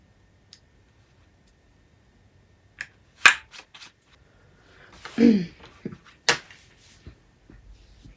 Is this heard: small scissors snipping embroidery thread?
yes